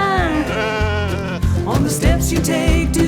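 Sheep bleat at the Akha farm in Doi Chang, several wavering cries close by, overlapping one another amid farm noise.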